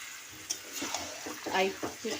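Chicken curry, just splashed with leftover spice water, is stirred and fried in a pan, giving a soft, close sizzle with scraping strokes and a faint voice briefly underneath.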